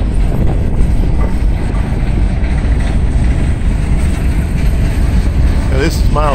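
A long, loaded gondola freight train hauled by four locomotives rolls past close by, a loud, steady rumble with rhythmic wheel clatter and a brief high squeal near the end.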